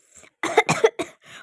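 A person coughs after eating spicy fried rice, with a few sharp, close coughs in quick succession, a short pause, then one more softer cough, heard alone.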